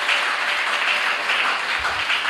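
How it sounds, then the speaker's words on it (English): Audience applause for the seamstress who altered a wedding gown at a hula performance in Maryland, a steady wash of many hands clapping throughout, fairly loud and even with no pause. "Can you give a clap for Joanne?"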